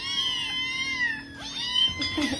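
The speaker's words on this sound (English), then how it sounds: "Meow, meow, meow, meow, meow, meow" A cat lets out a couple of drawn-out meows close by, the first long and wavering, the second shorter and strained.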